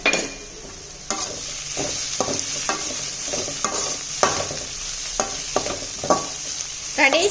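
Chopped bottle gourd is stirred and sautéed in a pan, with soft sizzling and repeated scraping strokes of a spoon at a steady, unhurried pace, no voices.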